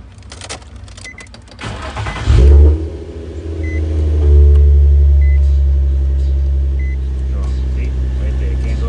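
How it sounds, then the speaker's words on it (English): A car engine starts with a brief cranking burst, then settles into a loud, steady idle rumble that carries on to the end. "Even when you start the car,"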